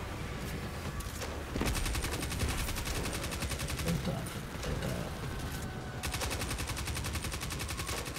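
Sustained automatic gunfire in Destiny 2, rapid rhythmic bursts running nearly continuously with brief gaps, loud and close, with a voice talking faintly underneath.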